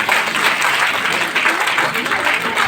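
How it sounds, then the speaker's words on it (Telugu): Dense, steady applause from an audience at a Telugu stage play, many hands clapping loudly and continuously with a faint murmur of crowd voices underneath. "చప్పట్లు కొట్టవలసిందిగా కోరుచున్నాను"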